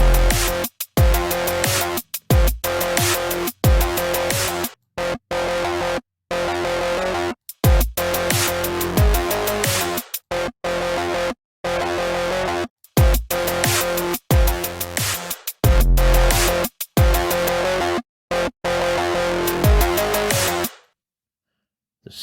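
Cyberpunk synth bass patch built in Caustic 3 Modular pulses in loud, dense rhythmic bursts with sharp gated cutoffs and short silent gaps, repeating for about twenty seconds before stopping abruptly.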